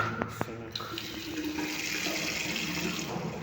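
Water runs steadily from a tap into a sink in a vacant one-bedroom house, a continuous splashing hiss after a couple of brief knocks at the start.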